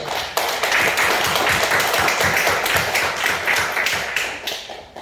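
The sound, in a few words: church congregation clapping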